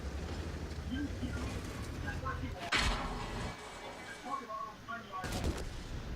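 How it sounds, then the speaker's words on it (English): IS-7 tank cannon shots in a video game, with two heavy booming blasts several seconds apart over a rumbling engine and battle din, alongside a talking voice. "there's one shot, there's two shots, and there's three"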